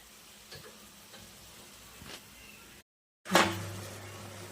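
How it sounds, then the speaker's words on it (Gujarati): Maggi noodles being stirred in a pan on a home stove, a soft scraping stir with quiet sizzling, then a louder burst of frying hiss after a brief silence. "વચ્ચે વચ્ચે થોડી મેગીને હલાવતા રહેવું, જેથી કરીને મેગી સારી બને, નીચે ચોંટે નહીં"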